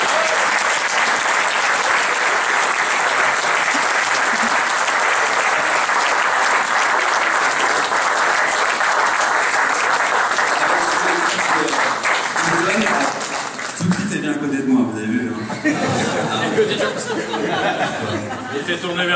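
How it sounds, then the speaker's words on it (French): Sustained applause from a crowd at a political party's New Year greetings speech, loud and steady, fading into scattered clapping and chatter near the end. "Vous pouvez l'applaudir, Amélie Pidero."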